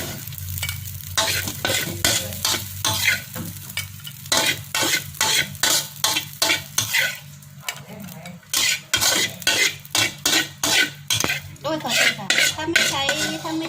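Rice with salted fish being stir-fried in a pan, a utensil scraping and clanking against the metal in quick repeated strokes over a steady low sizzle, close and loud with no talking.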